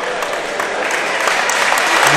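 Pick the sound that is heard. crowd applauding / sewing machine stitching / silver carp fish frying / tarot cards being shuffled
crowd applauding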